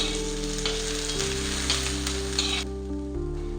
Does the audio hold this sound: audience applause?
no